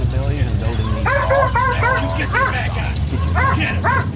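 A trained police dog at a K9 trial staging a car-jacking scenario gives repeated sharp, high yips and barks up close, mixed with people talking.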